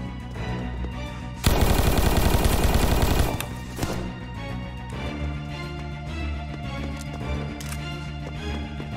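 A sharp burst of rapid gunshots in Roblox Apocalypse Rising 2 fires for about two seconds, loud and close, over a steady low game background that continues after the shooting stops.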